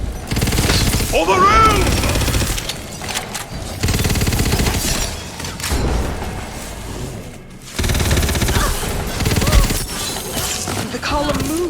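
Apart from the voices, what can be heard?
gunfire shooting the column in the video game Tiny Tina's Wonderlands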